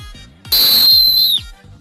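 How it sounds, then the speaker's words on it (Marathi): A shrill whistle is blown once, loud and close, holding a steady piercing tone for about a second before cutting off. "वाजवा तुम्ही शिट्टी"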